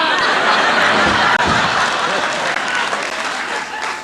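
Studio audience applause at a farewell television show, dense sustained clapping from a large crowd, loud and steady throughout with a few scattered laughs mixed in.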